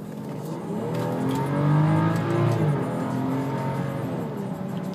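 A 2013 BMW X5 xDrive 35i SUV pulls away from a stop, its engine note rising smoothly as it accelerates and shifts, heard steadily from inside the cabin with no talking.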